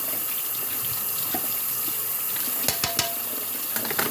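Tap water runs steadily into a kitchen sink while dishes are washed and scrubbed by hand, with a few brief clinks of utensils near the end.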